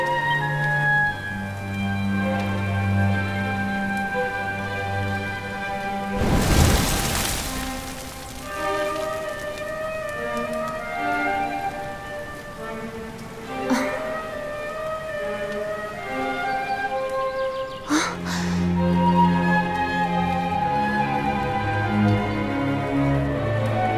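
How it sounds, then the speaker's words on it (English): Steady rain in the fantasy role-playing game Dragon Quest XI S, a soft hiss running under game music with a couple of sharper swells, heard alone without talk. "Looks like the rain's dying down."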